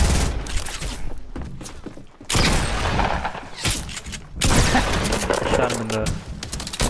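Fortnite gunfire rattles in dense bursts with heavy booms, broken by brief gaps, while players' voices chatter over the fighting.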